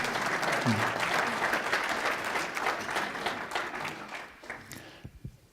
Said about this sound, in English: She's the one that deserves the applause.